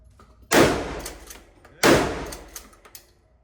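Two heavy shotgun slug blasts at an outdoor gun range, loud and booming, about a second and a half apart, each followed by a decaying rumble with faint distant shots in between.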